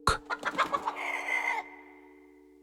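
A fighting rooster (gamecock) gives one loud, close crow, rising through a few sharp bursts into a long held note before breaking off.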